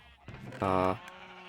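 A sheep in Minecraft Bedrock Edition gives a single clear bleat, brief and fairly close, with a few soft game sounds around it.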